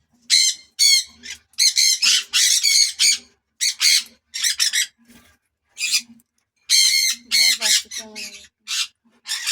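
Tame pet birds give a rapid run of loud, harsh squawks close by, the calls coming in short bursts with brief gaps, one bird perched on a person's head.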